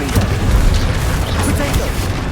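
A Confringo fire spell in the game Hogwarts Legacy bursts in a loud, dense boom with crackling debris, rumbling continuously through the moment of combat.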